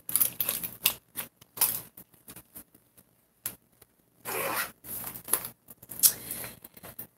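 A zipper on a Juicy Couture bag pouch is worked in several short, close bursts of rasping, with quiet pauses between pulls and two longer zips later on.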